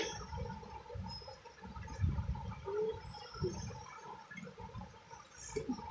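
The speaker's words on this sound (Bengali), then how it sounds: "এবার আমি এর মধ্যে দেবো গোলাপ জল" Rose water pours into a pot of handi biryani with its spice mix already added, giving a brief liquid splash and gurgle over steady low kitchen noise, close and moderately loud.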